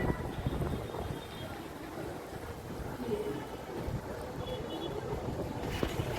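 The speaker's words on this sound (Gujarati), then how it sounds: "વરસાદ આવવાની ફૂલ તૈયારી છે અને ફૂલ પવન ફૂંકાય છે" Steady gusty storm wind ahead of rain roars across the microphone, a broad rushing noise with buffeting, continuous throughout.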